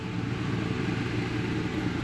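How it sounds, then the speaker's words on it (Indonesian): A car with a B48 engine, being prepared for a dyno run, idles loudly inside a garage, a steady, close rumble with no variation in pitch. "Wah, berisik banget mobilnya coy, berisik."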